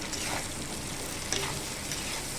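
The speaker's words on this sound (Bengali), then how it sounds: "হলুদের গুঁড়োটা দিয়ে দিলাম এখানে একটু নাড়াচাড়া করে একটু নাড়াচাড়া করবো" Hilsa fish frying in light oil with turmeric powder stirred in gives a steady, dense sizzle close by, with a brief stirring scrape partway through and no voice.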